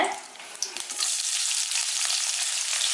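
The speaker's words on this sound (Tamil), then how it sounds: "இப்போ வெங்காயம் வந்து நல்லா வதங்கட்டும்" Long-sliced onions sauté in hot oil for a Madurai crab pepper fry, giving a loud, close, continuous sizzle that swells and holds steady after a brief start.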